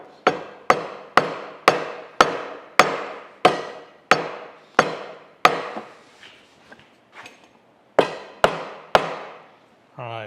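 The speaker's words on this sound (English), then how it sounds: "I'm gonna take a little lead hammer and just bump that around." A small lead hammer taps a grinder setting into position on a Brown & Sharpe No. 13 universal grinder, about a dozen sharp, evenly spaced knocks with a pause and a few softer taps before the final blows.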